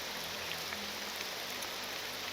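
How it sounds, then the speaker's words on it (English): Steady rainfall in modded Morrowind, a dense even hiss of drops on the ground that stays constant and fills the whole scene, with no voices. "This poor guy is just walking in the rain while feeling horrific."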